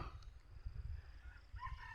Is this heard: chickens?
yes